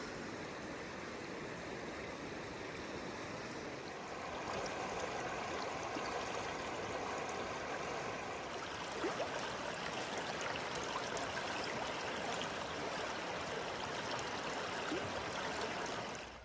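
Water in a North Georgia river runs steadily over rocks, a broad continuous rushing and trickling that stays close and fairly loud, thickening slightly partway through, with no voices.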